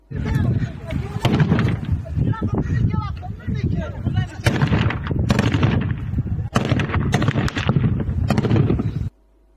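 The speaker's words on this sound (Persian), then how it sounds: "ویدیو لحظه شلیک RPG نیروهای طالبان افغانستان پایگاه مرزی" Gunfire and blasts during a Taliban RPG attack on a border post crack and boom repeatedly, loud and close, in dense bursts over shouting voices, before cutting off abruptly.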